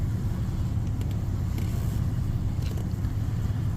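Steady low road rumble from inside a moving car, a continuous engine and tire drone with a few faint higher clicks over it and no voices.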